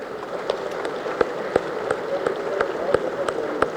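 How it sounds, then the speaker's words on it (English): A convention audience clapping in unison, a steady rhythmic beat of sharp claps roughly three per second over a soft crowd wash, sustained and moderately distant. "I request all of you to clap for 1 minute"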